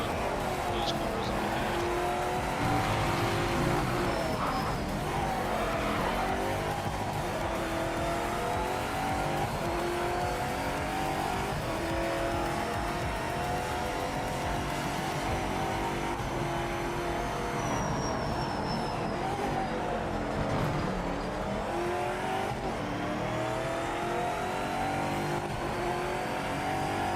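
GT500 race car in the Project Motor Racing video game, its engine droning and revving steadily through the gears for the whole stretch, with faint tire noise and a voice talking over it now and then.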